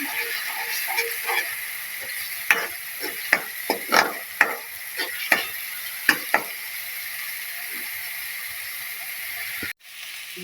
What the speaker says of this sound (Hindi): अभी हम इसके अंदर ना 1 टीस्पून लहसुन अदरक का पेस्ट डाल देंगे और 1 मिनट तक इसको फ्राई करेंगे।